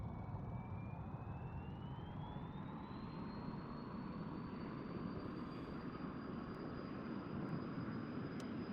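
An F-100D jet engine spooling up on the runway in the flight simulator DCS, a loud, steady roar with a whine that climbs in pitch over the first few seconds and then holds high.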